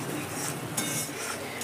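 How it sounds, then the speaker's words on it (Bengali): Spice masala sautéing in oil for a chicken dish, heard as a steady sizzling hiss with utensil scrapes and clinks against the pan, including one sharper clatter midway. "তেলের মধ্যে এবার মশলাটা দিয়ে মশলাটা এবার আমি কিন্তু কষিয়ে নেব।"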